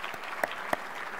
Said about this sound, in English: So a round of applause for the class of 2020.